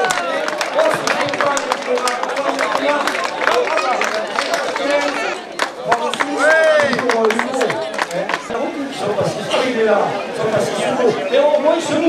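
A crowd claps and cheers as raid competitors arrive at the finish of the Raid du Ciron, with sustained applause and lively chatter throughout, voices mixed in close by.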